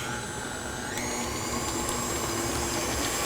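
An electric stand mixer creams butter and sugar in a bowl for a pineapple upside-down cake, giving a steady, continuous mechanical whir at moderate volume with no talking.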